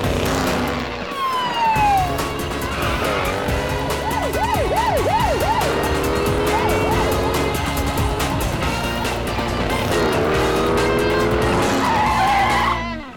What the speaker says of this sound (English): We got ourselves a drag race.